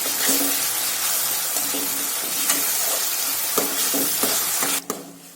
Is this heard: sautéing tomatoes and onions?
yes